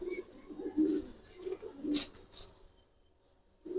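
Indian high flyer pigeons coo softly nearby in low, throaty repeated calls, interspersed with a few brief higher chirps.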